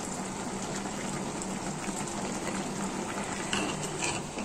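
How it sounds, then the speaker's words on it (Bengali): Dried fish puffs up while frying in a little oil, giving a dense, continuous, close sizzle that holds steady for a few seconds with no voices. "তেলে ভাজবেন, একটু তেলে ভাজলে তখন শুটকিটা ফুলে যায়।"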